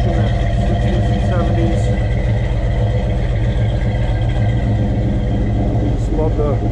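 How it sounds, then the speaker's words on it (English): A 1965 Ford Mustang GT Fastback idles with a steady low rumble throughout, running smoothly at moderate volume while someone talks over it. "There's that nice little rumble that you get back in the 60s and"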